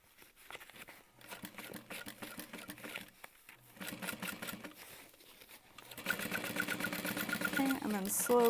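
A sewing machine runs close by as it stitches a seam on a crossbody bag, with a steady rapid chatter that pauses briefly between runs and grows louder and denser toward the end.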